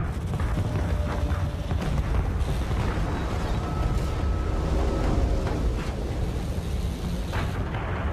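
Artillery shells exploding on a Battlefield 1 battlefield, a dense, continuous rumble of booms and blasts layered over the din of combat with no clear pauses.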